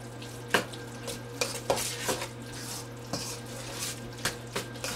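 A vegetable casserole is stirred in a dish, with close, irregular scrapes and clinks of a utensil against the dish about ten times over a steady low hum, and no voices.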